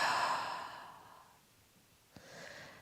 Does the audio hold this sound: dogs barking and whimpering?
no